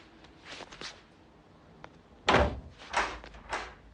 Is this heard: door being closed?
yes